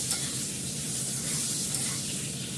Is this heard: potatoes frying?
yes